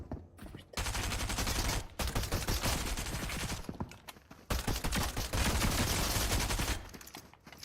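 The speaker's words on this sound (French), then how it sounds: "je vise et je tire" Rapid gunfire from the video game Fortnite rattles in two long dense bursts separated by brief gaps, loud and sustained, with sharp individual shots at the edges.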